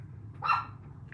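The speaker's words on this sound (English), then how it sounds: "you guys will hear dogs all night" Dogs bark at night in the background of a casual gathering, with one clear mid-distance bark burst standing out over a low steady hum.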